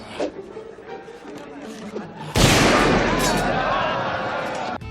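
A gunshot from the Raiders of the Lost Ark film scene where Indiana Jones shoots a swordsman: a sudden loud blast cuts in midway, then a long noisy roar and rumble continues, following quieter background chatter and crowd noise.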